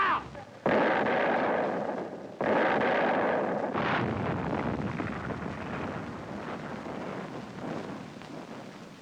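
Artillery guns fire during the Battle of Mareth in North Africa, two heavy booming blasts in quick succession, then rolling rumble and wind-like roar trailing off, all loud and near.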